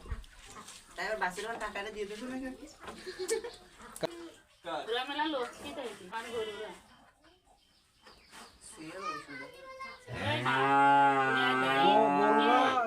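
Several drawn-out cow moos, loud and close, with people talking between them; the final moo is long and strong.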